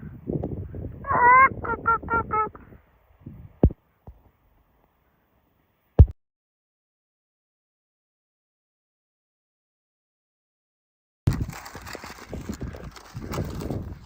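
Clucking chickens in a short burst, then a few isolated knocks and a long stretch of quiet before muffled rustling noise returns, outdoors on the Pacific Crest Trail.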